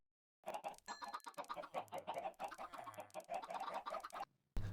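Minecraft chickens cluck in a quick run of short repeated calls, close and clear, one after another with brief gaps, ending in a sudden low burst.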